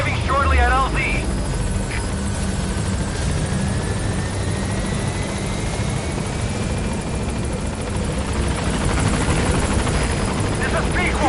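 A helicopter approaches a landing zone in the video game Metal Gear Solid V: The Phantom Pain, its rotor and engine a loud, steady roar that fills the whole stretch, with a brief burst of game effects near the start.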